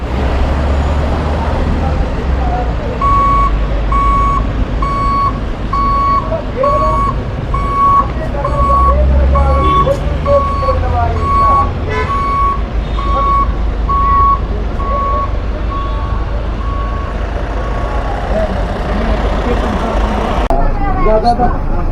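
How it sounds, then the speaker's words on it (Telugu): A bus gives a steady run of loud reversing beeps over a rumbling diesel engine at a Tirumala hill stop, the beeps pulsing evenly through most of the stretch while people talk in the background. "ఇక్కడ మన శిలాతోరణంలో బస్సు ఎక్కేసాము."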